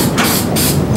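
Spray paint cans shaken hard, a loud rhythmic rattle with sharp hissy bursts like a maraca, close up and without voices.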